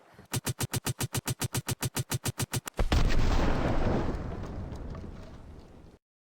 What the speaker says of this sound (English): this time we're going to use an explosive barrel on a damaged raft so that it will sink.